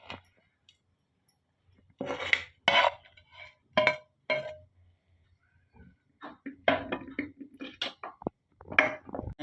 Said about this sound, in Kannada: ಈಗ ಮಾಡಿದಂಥ ಒಗ್ಗರಣೆಯನ್ನು ಇದಕ್ಕೆ ಹಾಕ್ಕೊಳ್ಳಿ.